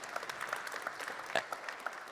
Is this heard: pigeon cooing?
no